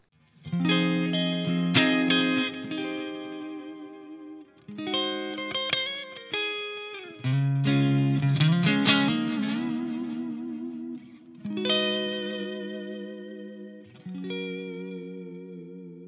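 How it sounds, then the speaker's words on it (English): Clean electric guitar phrases ring out through a Bassman amp model on a Two Notes ReVolt, each note trailed by echoing repeats from a delay, in short separated passages. "I have the bassman and I have some delay"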